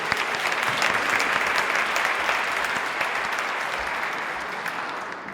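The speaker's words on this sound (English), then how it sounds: "So let's give them a round of applause." An audience at a Rotary meeting gives a round of applause during a speech contest, a dense, steady roar of many hands clapping indoors that lasts the whole stretch and fades slightly at the end.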